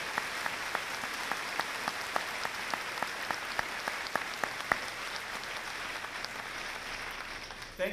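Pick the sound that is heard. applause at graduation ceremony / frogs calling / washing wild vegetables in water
applause at graduation ceremony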